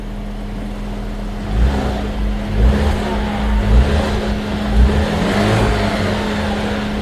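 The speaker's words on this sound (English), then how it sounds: "I'm gonna start the engine. So right there, as you can hear, the engine is running" An Alfa Romeo engine with the check engine light on and white smoke from the tail runs steadily nearby, a loud low idle hum with a few gentle surges.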